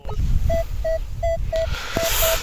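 A Minelab Equinox 900 metal detector gives about six short, clear electronic beeps in a steady rhythm while sweeping over ground at a search site, with outdoor rustling underneath.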